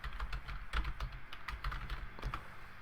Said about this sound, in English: I want you to type Christmas card